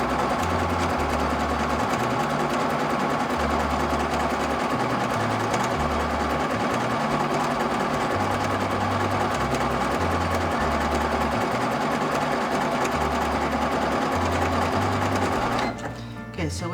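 An Empisal sewing machine fitted with a special presser foot runs steadily and close by, its motor hum and rapid needle clatter going nearly nonstop before cutting out at the very end.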